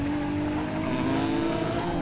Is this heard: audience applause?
no